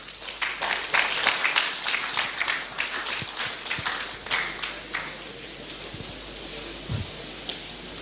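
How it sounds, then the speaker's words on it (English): An audience at a Nigerian government event applauds after a speech, many hands clapping in a steady, roomy burst that thins toward the end, with a few scattered claps and faint voices. "I believe we can make the applause a bit louder for the Secretary to the Government of the Federation."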